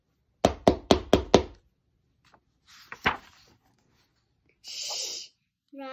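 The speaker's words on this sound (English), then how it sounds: "Roger knocks noisily." Five quick, evenly spaced knocks rap out close and crisp, followed by a few scattered thumps and a short hiss-like noise after a pause.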